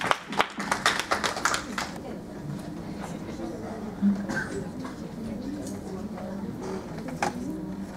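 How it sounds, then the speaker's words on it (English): Audience clapping after a group presentation at a leadership fellowship event: a burst of applause at the start thins out quickly into scattered claps and light taps over the room's background murmur. "Give a hand of applause."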